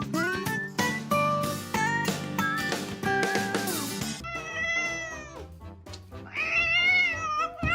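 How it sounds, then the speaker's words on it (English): A cat meows during a bath, a run of loud, drawn-out wavering cries close up, with pauses and a final rising wail. "Unlike his kind, this cat really enjoyed being bathed."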